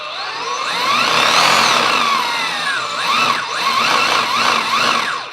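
A Bosch GBH18V-45C SDS MAX cordless rotary hammer drill runs under trigger control, its motor whine rising and falling as the trigger is squeezed and eased. It is loud and close, with no talk.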